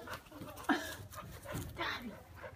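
A dog playing chase in a back yard pants and whimpers in short repeated bursts, close but faint, with a little voice faintly in the background.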